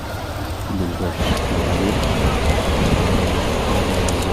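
Heavy rain pours onto the courtyard of Masjid Nabawi as a dense, continuous roaring hiss that swells slightly after the first second, with someone briefly speaking over it.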